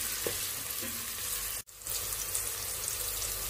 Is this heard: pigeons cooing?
no